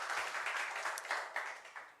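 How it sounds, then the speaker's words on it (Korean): A church congregation claps together during a Sunday worship service, a dense, steady wash of many hands applauding for a couple of seconds, moderately loud in a large room. "우리 하나님께 영광의 박수 올려드리겠습니다"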